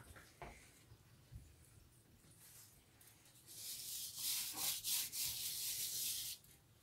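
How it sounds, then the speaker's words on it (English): Hands rub a rosemary, garlic and thyme spice rub over lamb ribs, giving soft close scraping and rubbing strokes that grow louder and more rapid toward the end, with no talking. "Now I'm going to put some rub all over the ribs."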